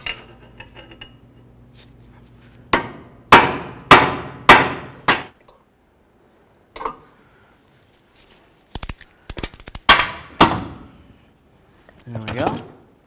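A pry bar strikes a bolt on a 2007-13 Nissan Altima lower control arm: four sharp metallic blows in quick succession, then a lone knock and a later burst of clanks and taps, close and loud with quiet gaps between.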